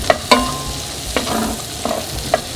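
Zucchini cooking in butter in a pan gives a soft, steady sizzle, broken by a few sharp clicks and knocks of a utensil against the pan, close by with no talking.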